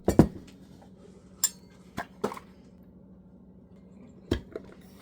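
A salsa jar being opened in a kitchen: several sharp, separate clinks and clicks of glass and lid, close and fairly quiet, with gaps between them.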